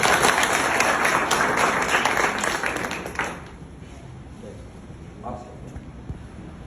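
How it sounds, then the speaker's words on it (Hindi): Loud applause from a village audience at a live Haryanvi stage event fills the first half, a dense continuous clatter of many hands that fades out around midway, leaving quieter ambience. "जोरदार तालियां एक बार"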